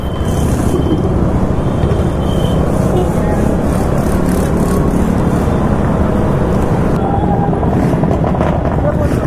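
Motorbikes and scooters with silencers removed rumble together in a Ram Navami bike rally in Medinipur, a loud, unbroken engine roar close by with voices shouting over it.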